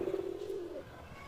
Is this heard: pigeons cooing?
yes